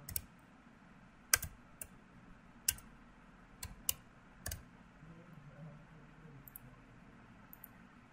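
Typing on a computer keyboard during a Bootstrap web design lesson: irregular, crisp keystrokes close by, some sharper clacks standing out, with a few quieter taps trailing off over a low background hum.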